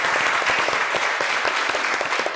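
An audience at a Buddhist Sunday Dharma service applauds with distinct, closely packed claps that sound near and steady, with no talking over them.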